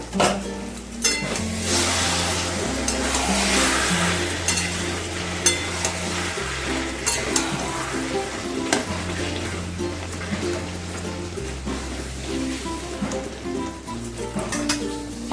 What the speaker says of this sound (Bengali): দেখো মাঝে মাঝে আমি একটু ঢাকা খুলে নেড়ে চেড়ে দেবো